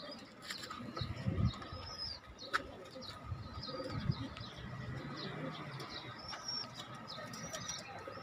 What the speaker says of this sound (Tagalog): At pinature lang natin yung mga young bird natin.